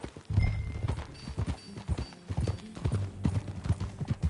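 Horse hooves clip-clop in a steady, close rhythm throughout in the video game Red Dead Redemption, with a faint whinny-like tone early on.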